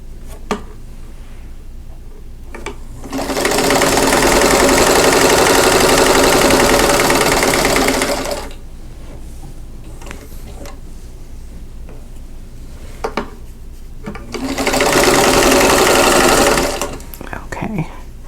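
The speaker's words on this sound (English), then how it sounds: "I'm going to sew right on that drawn line" A sewing machine stitches quilt block pieces along a drawn line in two loud, steady whirring bursts, separated by quieter stretches with small clicks and handling noises.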